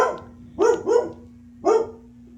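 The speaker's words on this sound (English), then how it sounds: "Are you barking at the wind now?" A dog barks three times, two quick barks then a third after a pause, over a steady low hum and background noise.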